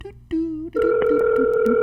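An outgoing phone call rings on the line: a short tone, then a sustained ringback tone with faint clicks, loud and close.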